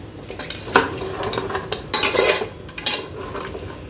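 Mutton biryani masala being sautéed with kewra water gives close metallic scrapes and clinks of a spoon against the pot, over a soft frying sizzle in short bursts.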